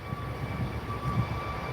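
A Ryanair jet bound for Berlin Brandenburg departs, its engines making a soft, steady distant rumble with a faint high whine on top.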